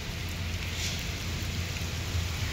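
Heavy rain falling outdoors under trees, a steady close hiss of downpour with a low rumbling undertone and no break, and no voices.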